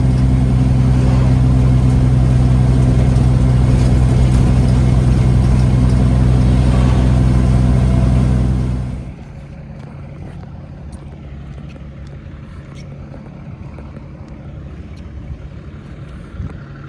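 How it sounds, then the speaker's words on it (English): Peterbilt 379 truck engine rumbling loudly and steadily up close, with a strong low drone, then cutting back sharply to a much quieter idle for the rest of the time. "Hear my truck?"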